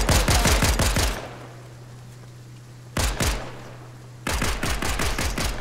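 Gunfire in the video game Fortnite comes in three loud bursts of rapid automatic shots, with short quiet gaps between them filled by a low hum.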